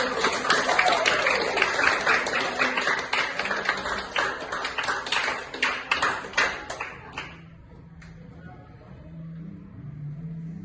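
A crowd claps steadily for several seconds, the applause thinning and stopping, followed by quiet room noise and low voices.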